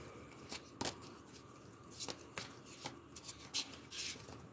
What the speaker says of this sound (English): So I'm going to pick 5 cards.